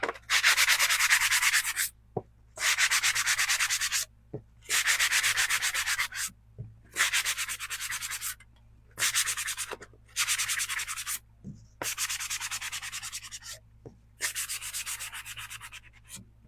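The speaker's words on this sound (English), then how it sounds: "So this should be dry now, and I think it is. So we're gonna sand." Hand-sanding a dried craft piece, with repeated loud scratchy strokes in bursts of about two seconds separated by short pauses, close and steady, no talking.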